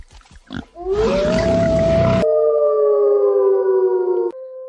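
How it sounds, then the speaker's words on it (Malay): A long, drawn-out wolf howl rises then holds a steady wavering tone for several seconds over a noisy rumble, clear and fairly loud, then ends abruptly. "Suara tadi apa? Lolong serigala."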